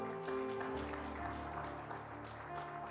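A church congregation at the Sungai Yordan church in Singkawang claps together in a steady, dense wash that holds at an even level throughout, with sustained tones and a low hum running beneath.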